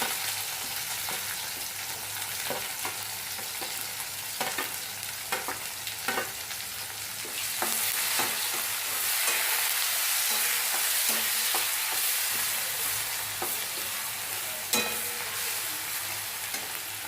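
Onion frying in hot oil with bay leaves in a pan for a matar paneer gravy, giving a steady close sizzle with scattered spatula scrapes and taps throughout, and the hiss swelling midway.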